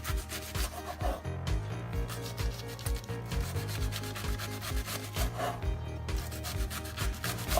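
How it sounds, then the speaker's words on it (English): A knife cuts through cabbage on a cutting board in a kitchen, with rhythmic scraping and rubbing strokes repeating roughly every half second, fairly close and alone with no talk. "Now we're going to begin slicing our cabbage,"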